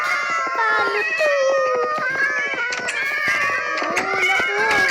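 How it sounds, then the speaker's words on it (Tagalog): A crowd of cats in the video game Craftsman meowing over one another, a dense, loud, continuous chorus of overlapping mews and yowls without pause. "Oo, ang dami namang pusa."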